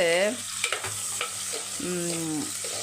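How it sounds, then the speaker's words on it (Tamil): Small onions sautéing in a pan for nookal kuzhambu, a kohlrabi curry, giving a steady close sizzle with occasional stirring scrapes. "வெங்காயம் வதங்கட்டும் நூக்கல் குழம்புக்கு"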